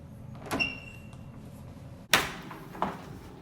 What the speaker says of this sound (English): Let's check this door.